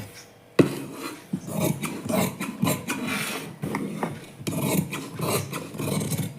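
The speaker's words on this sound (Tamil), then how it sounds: "இப்போ நம்ம வரைஞ்சதை அப்படியே கட் பண்ணிடலாம்." Scissors cut through blouse fabric along a drawn line on a tailoring table, giving a close, steady rasping rustle with repeated snips and sharp bursts, heard alone without talk.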